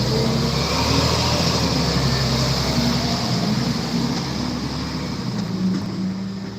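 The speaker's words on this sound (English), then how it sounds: "It's gonna get a little loud because this truck be bugging sometime, man." A truck's engine rumbles loudly and steadily with a low droning roar and constant road noise, holding at a fairly even level throughout with no talk.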